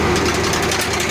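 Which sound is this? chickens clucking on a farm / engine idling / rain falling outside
engine idling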